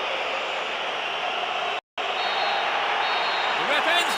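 A stadium crowd roars at the final whistle of a PES 6 football match on PlayStation 2: a broad, loud wall of cheering noise, broken by a brief silent gap, then swelling again.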